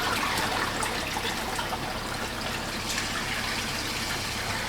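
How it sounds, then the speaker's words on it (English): Water gushing through a pipe into a garden pond drum filter as the system is restarted, a steady broadband rush and trickle that stays close and loud for the whole stretch without pause. "there's the first bit of water in"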